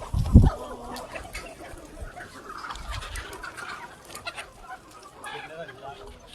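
Free-range country chickens cluck and call in a busy outdoor poultry farm setting, with a louder burst near the start and steady clucking throughout.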